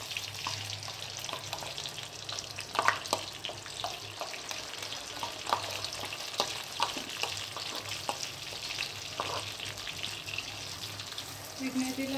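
Eggplants and spice paste fry in a hot pan for an eggplant curry, making a soft, continuous sizzle. Scattered clinks and scrapes of stirring sit over it, with a faint watery trickle in the background.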